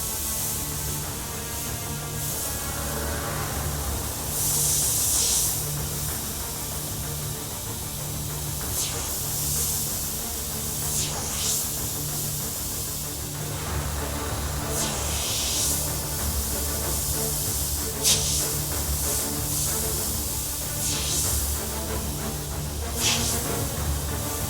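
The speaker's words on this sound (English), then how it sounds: "using my airbrush freehand" An airbrush sprays paint in short hissing bursts with pauses between, a compressor humming underneath as fine shadows and cracks are freehanded on a granite skull design.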